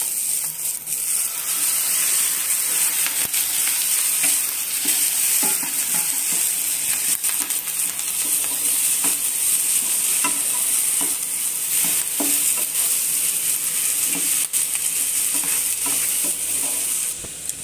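Goat brain sautéing with curry leaves in a pan: a loud, continuous sizzle close by with frequent scraping stirs of a spatula against the pan, no voices.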